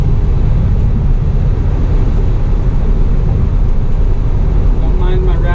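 A 1969 Camaro with FiTech fuel injection accelerates, its engine a loud continuous low roar heard from inside the car, with a faint dashboard rattle and a brief voice near the end.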